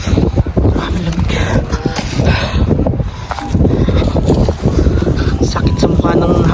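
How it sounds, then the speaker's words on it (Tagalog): Strong, freezing wind drives falling snow across an outdoor work site, gusting hard and buffeting the microphone in loud, continuous bursts, while a person talks over it. "Sakit sa mukha ng hampas ng hangin. May kasamang snow."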